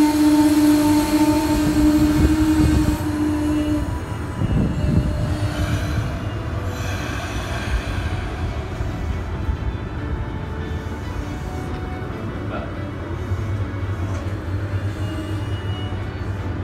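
Train passing through Bowie station rumbles and clatters steadily for the whole stretch, with a high wheel squeal near the start, loud and close with no talking.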